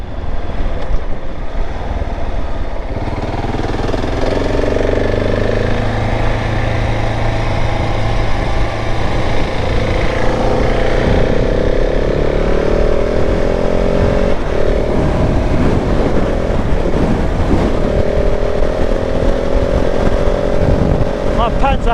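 A motorcycle engine runs loud and close for the whole stretch, its pitch rising and falling as the bike rides along, with heavy wind noise and a rider talking over it.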